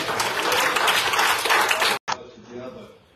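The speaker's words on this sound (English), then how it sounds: "And just give yourself a hand." A church congregation in a sanctuary applauding during a Sunday morning service, a loud dense burst of clapping for two seconds that cuts off abruptly, followed by quieter room noise.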